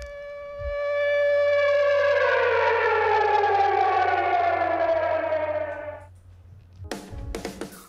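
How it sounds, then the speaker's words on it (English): A civil defense rocket warning siren in Israel rises and holds a loud, steady wailing tone for several seconds, then cuts off abruptly, followed by a few brief scattered noises. "many Israelis were forced to run to shelter regularly as rocket sirens sounded throughout the country"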